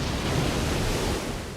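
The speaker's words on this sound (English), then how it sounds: "This is a Lahar. It is a very, very dangerous mudslide that is a combination of mud, water, and pyroclastic flow." A lahar, a mudslide of mud, water and pyroclastic flow in the video game Disaster: Day of Crisis, rushes as a loud, close, continuous broadband roar like heavy surf, with no speech.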